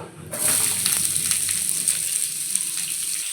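Cinnamon, cumin seeds and onion for paneer masala gravy hit hot oil in a pan and burst into a loud, close, continuous sizzle after a short quiet moment, crackling on without pause.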